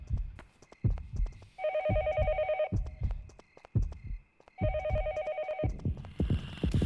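In the horror video game Yomawari: Night Alone, a telephone rings in two long electronic bursts over a thudding heartbeat-like pulse. The ring is clear and moderately loud, with a pause between the rings.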